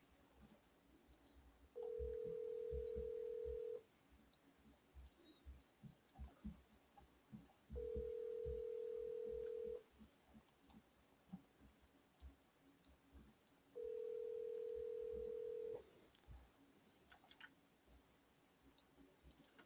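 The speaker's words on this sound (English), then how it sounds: "nobody wants to answer the phone today" An outgoing phone call rings unanswered: three long, evenly spaced ringback tones about six seconds apart, each lasting around two seconds, over faint room noise and small clicks.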